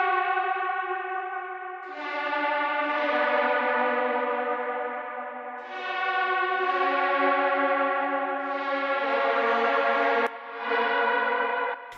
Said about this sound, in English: I added a vocal that sounded like a very distorted vocal that sounded like someone crying